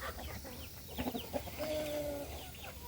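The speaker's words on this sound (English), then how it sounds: "But just thought I'd give you guys an update of the chickens." Backyard chickens cluck softly, with a rooster among the flock, giving short scattered clucks and one drawn-out call, fairly faint against a light outdoor background and no talking.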